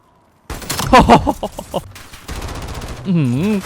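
Rapid bursts of automatic gunfire in Call of Duty: Black Ops 7 multiplayer, loud and close, broken into short stuttering volleys with a voice over parts of it.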